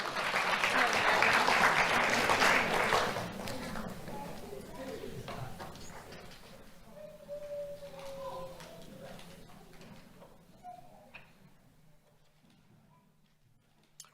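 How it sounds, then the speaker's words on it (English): An audience applauds at a sheriff's office youth awards ceremony, a loud burst of clapping for about three seconds that fades into scattered claps and room noise, with a voice speaking briefly. "Let's have a round of applause for Ruth."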